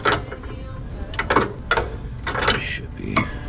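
Harbor Freight vice grips work loose a crusty part on a 2007 Acura TSX CL9, giving a string of irregular metallic clicks, ratchety clanks and scrapes close by.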